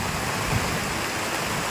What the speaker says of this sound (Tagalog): basang-basa na kami sa ulan talaga